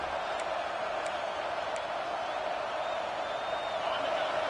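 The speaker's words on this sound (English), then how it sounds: "4th down, and this crowd trying to help this defense rise to the occasion" Football stadium crowd roaring on a fourth down as the home defense tries to hold, a dense steady wall of cheering and whistles that stays loud and unbroken throughout.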